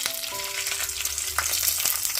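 A tempering of mustard seeds, dried chillies and curry leaves sizzles in hot oil for peanut chutney, a loud, dense crackling hiss with scattered pops and a brief metallic clink.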